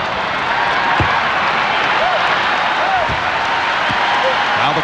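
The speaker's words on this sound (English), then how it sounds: "Now the crowd trying to get the Suns into it early." A packed arena crowd at the 1993 NBA Finals, Chicago Bulls versus Phoenix Suns, roars and claps in a steady wash of noise, with a basketball bouncing on the court and a commentator talking over it.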